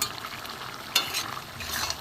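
Small crisp-fried fish stirred into a simmering fish curry in a pan, a soft steady sizzle with a couple of brief scraping stirs.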